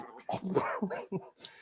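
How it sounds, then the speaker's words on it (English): A dog whimpers and whines at close range in a few short, broken bursts, the sound mixed with a little background voice activity. "that was my dog"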